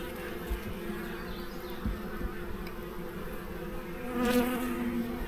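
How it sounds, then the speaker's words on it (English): A honeybee swarm buzzes inside a hive in a steady, dense drone that holds throughout and swells slightly louder near the end, with no voices. "This swarm is in here and they are probably going to stay."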